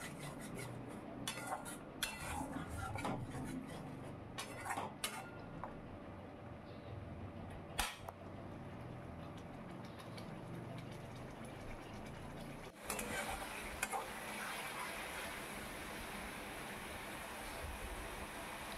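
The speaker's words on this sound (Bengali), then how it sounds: "এবার এটাকে সুন্দর করে নাড়াচাড়া করে নিতে হবে, কাঁচা গন্ধটা যাওয়া অবধি কষিয়ে নিতে হবে।" Spices and red chilli powder sautéed in a pan for Afghani egg curry, a steady rasping sizzle with scraping strokes throughout, a few louder clinks and a sharper burst partway through.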